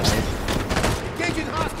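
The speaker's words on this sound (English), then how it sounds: "Hostile fire!" Gunfire in Halo 5: Guardians Warzone, a dense, steady fusillade of shots running the whole moment at close range, mixed with game voice callouts.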